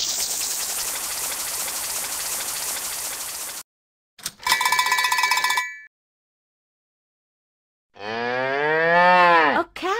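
A cow moos loudly and close up near the end, a single long, wavering call. Earlier come a steady rain-like hiss and then a brief bright cowbell-like ringing, with silent gaps between them.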